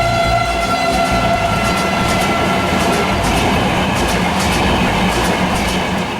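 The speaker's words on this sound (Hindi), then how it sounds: "हाई स्पीड ट्रेन गतिमान एक्सप्रेस प्लेटफॉर्म से छूटने के लिए तैयार है" Gatiman Express high-speed train pulling out of the platform at Hazrat Nizamuddin station, a loud, steady roar of rolling wagons with rhythmic rail clatter and hiss throughout, no voices.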